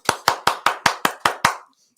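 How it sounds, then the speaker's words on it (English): Studio audience applause on a podcast, heard as eight loud, sharp, evenly spaced claps, close and dry, ending abruptly into silence. "Let's hear the applause out there."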